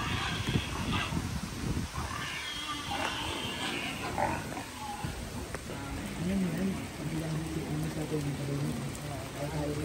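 Steady rain falls outdoors, a broad, constant hiss with scattered patter, while people talk under it and other low sounds come and go in the background.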